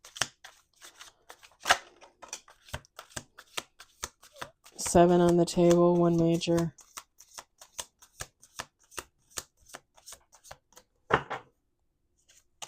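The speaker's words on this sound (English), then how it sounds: "Last shuffle." A deck of tarot cards riffled and shuffled by hand in a fast, crisp, papery patter close to the listener, with a person speaking over it and a sustained tonal drone briefly in the middle.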